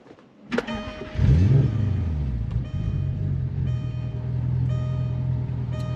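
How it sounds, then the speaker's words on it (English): A Jaguar XF's engine cranks briefly and catches, then settles into a steady low idle hum, close up, with a few faint electronic chimes over it. "If I turn on the car,"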